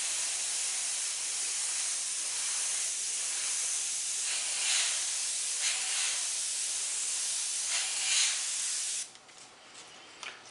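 An airbrush sprays paint in a steady, close hiss that swells slightly in a few short pulses, then cuts off abruptly near the end, leaving faint quiet bursts.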